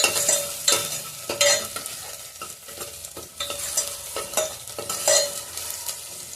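Onions and garlic fry over raised heat in a pan, a continuous sizzle broken by repeated bursts of spatula stirring and scraping, close and fairly loud with no talk.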